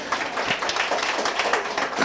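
Applause from a live audience at a chat event, a dense, steady spatter of many hands clapping at once, moderately loud and continuous for about two seconds.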